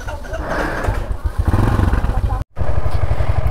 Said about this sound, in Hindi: सैडल अप हो चुके हैं all the bikes and we are leaving now.